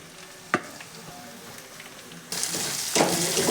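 Chopped fresh fenugreek leaves frying in a pan for methi kadhi: a quiet low sizzle with a clink, then a sudden louder burst of hissing partway through that keeps building.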